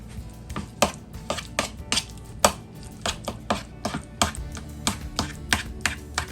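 A fork mashing and mixing deviled egg filling in a bowl: a quick run of sharp taps and clicks against the dish, close and fairly faint, with no talking.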